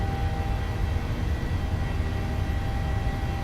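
Steady, even roar of a PMDG 737-700's jet engines at takeoff power in Microsoft Flight Simulator, a constant broadband rumble with faint tonal whine, no voices.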